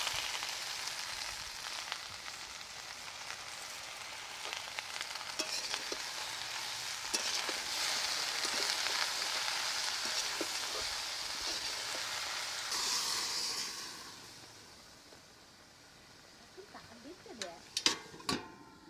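Chopped Malabar spinach stirred into a hot pan of spiced vegetable chorchori, a steady close sizzle and frying hiss with scraping stir strokes, easing off near the end.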